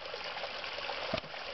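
Water surging under compression through a long hose on an output line, heard as a steady, loud rushing hiss that cuts off abruptly near the end.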